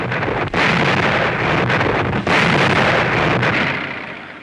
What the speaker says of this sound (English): including the massive coastal guns